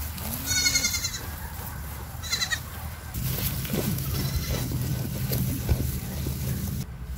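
Goat or sheep bleating in short wavering calls near the start and again around two seconds, over steady water and boat engine rumble, with a ram among livestock.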